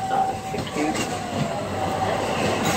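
Magic Kingdom railroad train running between Main Street USA and Frontierland, a continuous rumble of rolling wheels with a faint whine, heard close and steady.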